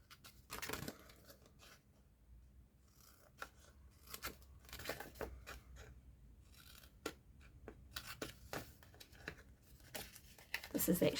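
Scissors snip through decorative patterned craft paper for a handmade gift box, a series of close, crisp cuts in irregular bursts, with someone talking intermittently between them.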